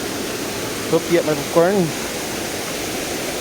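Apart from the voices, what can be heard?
waterfall at Bangon Falls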